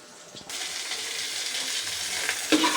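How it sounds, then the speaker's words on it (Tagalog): Garlic, onion and ginger start sautéing in a pan, a soft sizzle bursting in after a quiet moment and holding steady, with a sharper crackle near the end. "ginigisa ko muna itong bawang, sibuyas, saka luya"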